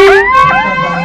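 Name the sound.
emergency vehicle siren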